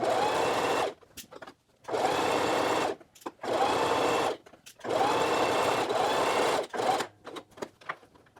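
A sewing machine top stitches a pocket facing onto the front leg of homemade pants, its motor whirring in several steady bursts of a second or two, separated by short pauses, loud and close with no talk.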